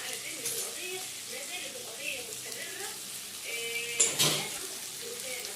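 Koshari ingredients sauté in a pan with salt and cumin, giving a soft, steady sizzle and stirring scrapes while someone talks over them, followed by a brief louder clatter.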